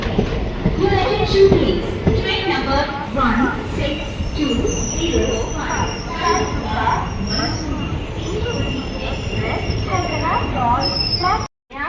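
The 16205 Talguppa–Mysuru intercity express rumbles along the rails at steady speed, heard from inside a carriage as continuous loud clatter and wheel noise with people talking over it, ending in a sudden cut.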